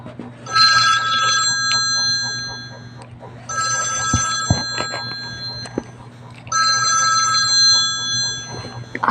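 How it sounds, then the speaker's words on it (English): A MyPhone B18 mobile phone plays a ringtone, loud electronic ringing bursts repeating three times with short pauses between, close and clear with a faint hum underneath. "phone ringtones."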